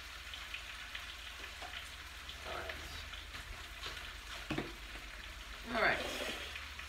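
Brussels sprouts sizzling in a pan, a steady faint crackle and hiss with occasional louder pops and a scraping stir near the end.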